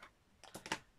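A semi-sharp pair of scissors trims paper for an art journal, making three or four quick, faint snips close by with no talk.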